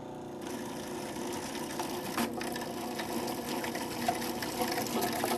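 A Cuisinart FP-14DC Elite Collection food processor hums with a steady, even whir while olive oil is poured in through the small feed tube, giving a soft liquid trickle under the motor.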